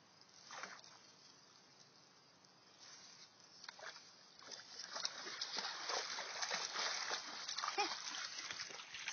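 A dog splashes and sloshes through shallow water among tall reeds, faint and somewhat distant, the splashing growing busier toward the end with soft voices talking in the background.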